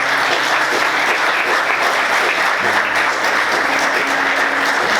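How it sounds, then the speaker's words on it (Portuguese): A church congregation at an Easter service gives loud, sustained, dense applause that stays even throughout with no break, and no clear talking over it. "Vamos aplaudir Jesus."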